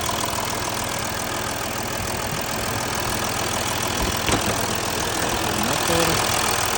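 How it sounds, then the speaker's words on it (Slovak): The 3-liter diesel engine of an Audi A6 C6 with 400,000 km idles steadily up close, a continuous rumbling drone with a faint hissing air leak running underneath, no voices. "Počujete, či nepočujete, ale podfúkuje mi tam niečo v motore."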